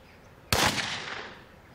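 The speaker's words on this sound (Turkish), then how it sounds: "Silah patladığında sporcularımızın hepsi yerlerinden fırlayacaklar." A starting gun fires once for a line of sprinters, giving a single sharp, loud crack whose echo rings out and fades slowly over about a second in an open outdoor space.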